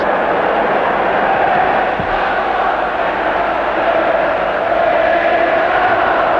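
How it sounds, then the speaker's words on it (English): Football stadium crowd at the 1968 European Cup Final between Manchester United and Benfica, a loud, steady, broad roar of thousands of voices buzzing with anticipation, unbroken throughout. "the crowd know this, they're buzzing"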